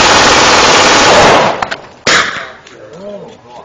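Full-auto gunfire from an AK-47, MP5, AR-15 or G18 at a range, a loud rapid close burst lasting about a second and a half, then a single sharp crack and fading echoes with brief voices.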